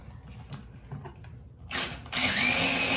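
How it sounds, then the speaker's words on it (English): A 4-volt cordless screwdriver spins a 25-foot plumbing auger, starting as a faint whir and jumping to a louder steady mechanical whine with rattling for the last second. "So I'm just using this 4-volt cordless screwdriver."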